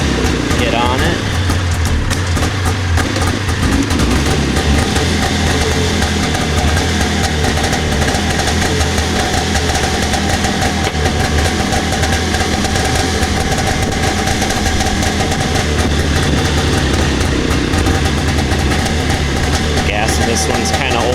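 An old John Deere snowmobile engine idling while it warms up, a loud, steady mechanical drone with rough rattling that runs unbroken throughout, with a person talking over it.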